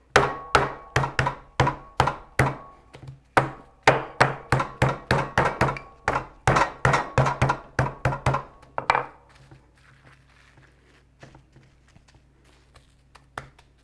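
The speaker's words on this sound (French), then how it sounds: "j'ai aplati régulièrement, un dernier petit coup aux extrémités" Stuffed turkey meat wrapped between sheets of plastic wrap is pounded flat on a board, a close, steady run of sharp thumps that slows and fades into a few faint taps and quiet near the end.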